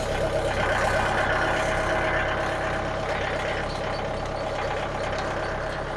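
Engine of a Frontier OS27 portable sawmill running steadily after the key is turned on, a loud continuous drone with a rough idle rumble heard up close and alone.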